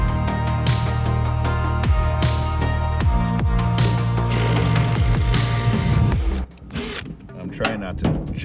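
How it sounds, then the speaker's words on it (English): A power drill bores into the side of a custom truck bed, a steady loud whine with a high squeal near the end before the motor stops and starts again in short bursts. "Try not to jam the drill bit in and screw up the bedside."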